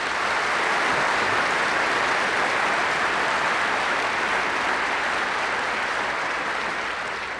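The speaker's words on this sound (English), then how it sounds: "I would like to ask everybody to give them a big round of applause" An audience at a science lecture event gives a sustained round of applause to the sponsors, a dense, even roar of clapping that holds steady throughout.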